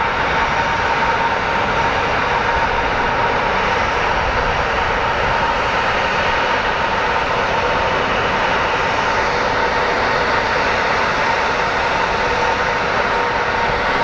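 Airplane engines at Phoenix Sky Harbor International Airport produce a loud, steady, unbroken roar that holds at constant strength for the entire stretch, with no talking.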